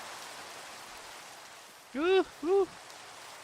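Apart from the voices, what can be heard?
rain falling in the video game Minecraft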